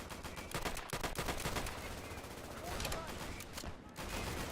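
Dense gunfire from the World War II shooter Easy Red 2 during a counterattack, with rapid bursts and single shots crackling continuously and fairly loud, some sharper reports standing out, with no voices heard.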